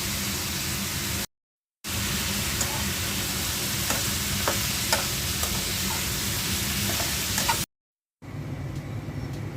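Bitter gourd slices frying in a pan with salt, turmeric, coriander and green chillies, giving a steady close sizzle with stirring scrapes throughout, broken by two short silent gaps.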